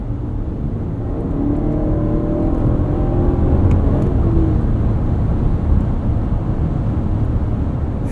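Steady low road rumble and hum inside a 2024 Lexus TX 550h+ plug-in hybrid cruising at speed, a smooth continuous drone with faint wind noise and no voices.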